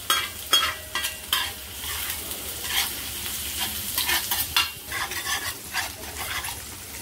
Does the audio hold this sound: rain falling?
no